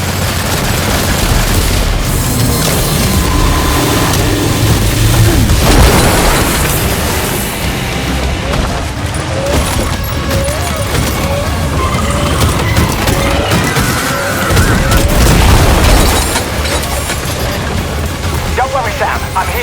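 Sustained gunfire and deep explosive booms fill a battle in the video game Death Stranding 2, a loud continuous barrage with heavier blasts rising and falling over the whole stretch.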